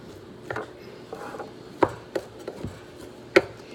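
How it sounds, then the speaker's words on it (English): A knife chopping turkey meat on a board, a few irregular sharp knocks and soft cuts over a low background hum, close but fairly quiet, no talking. "And you want to chop the meat up"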